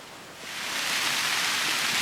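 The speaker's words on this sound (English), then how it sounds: "Hear the storm coming." An approaching rainstorm in a Temagami pine forest: the hiss of rain swells quickly from moderate to a loud, dense, steady roar of downpour.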